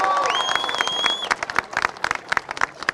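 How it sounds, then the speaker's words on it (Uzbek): Applause from an audience in Fergana welcoming the Asian champions, a dense patter of many hands clapping that trails into scattered, uneven claps, with a voice and ringing tones briefly heard at the start. "hammamiz yana bir bor olqishlab qo'yamiz"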